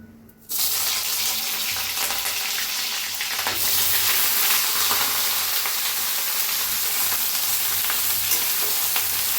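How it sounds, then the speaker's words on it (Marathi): Jackfruit pieces land in hot oil and fry, a loud, dense hiss bursting in after a brief quiet start and holding steady with faint crackles for several seconds, no speech. "चांगलं भाजून घेऊया"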